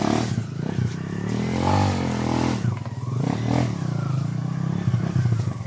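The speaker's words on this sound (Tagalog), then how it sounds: "Grabe yung motor ni Johnny, bay." A motorcycle engine running close by, its low throbbing rumble rising and falling with throttle changes and some rattling clatter, loud and steady throughout with no talk over it.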